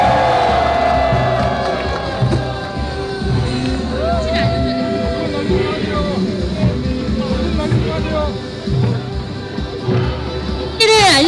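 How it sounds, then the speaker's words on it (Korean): At an outdoor ceremony declaring the permanent shutdown of the Hanbit Unit 1 reactor, a crowd cheers and shouts in a loud, sustained roar with whoops, while voices can be heard through it. "큰 박수로 환영해 주십시오."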